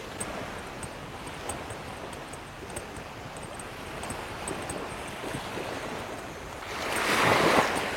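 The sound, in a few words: waves on a beach in Krabi, Thailand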